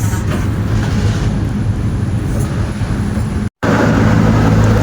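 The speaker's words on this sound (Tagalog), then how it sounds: "all goods na yung Honda Beat. Umandar na siya." A Honda Beat scooter engine runs at a steady idle with a broad, constant hum, briefly cutting out for a moment before picking back up, with no talk over it.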